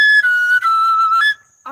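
A flute plays a single sustained, pure tone, close and loud, with brief breaks before trailing off, during a morning fellowship gathering.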